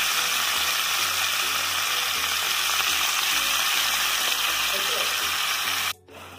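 Ginger and about a dozen garlic cloves fry in a pan with a loud, steady, close sizzle that runs unbroken and then cuts off abruptly at the end.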